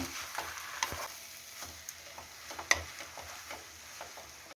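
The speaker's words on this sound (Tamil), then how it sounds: "ஃபில்டர் பண்ண இந்த கிளாஸ் நூடுல்ஸை நம்ம இதில் சேர்த்திடலாம். சேர்த்திட்டு இதையும் நல்லா நம்ம கலந்து விட்டுக்கலாம்." Glass noodles for Thai-style noodles are stirred and tossed in a pan, giving a soft, faint sizzle with light scraping and occasional small clicks against the metal, and no talking.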